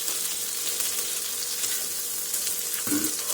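A piece of Gamsy brand butter melting in a hot pan, giving a steady close crackling sizzle that swells briefly near the end; no talking.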